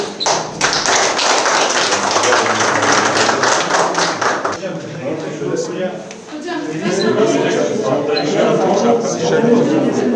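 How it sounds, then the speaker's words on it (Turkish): A group of adults welcoming children at a school claps briskly in dense, close applause for several seconds, then the clapping thins as talk and crowd chatter take over before clapping resumes. "Sizi alkışlıyoruz"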